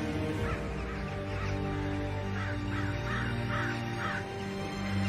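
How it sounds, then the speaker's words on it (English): Messenger ravens caw repeatedly in a Game of Thrones scene, a series of harsh calls rising over a steady background hum. "those are all the birds with messages"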